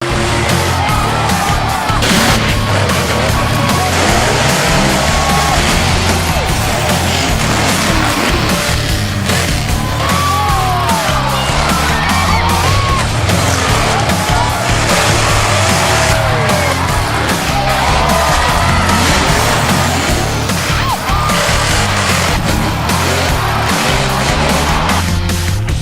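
Modified and pro stock trucks running through a mud pit at a harvest fair in Transfer, Pennsylvania, loud roaring engines with revving and a dense, steady din throughout, faint crowd noise underneath.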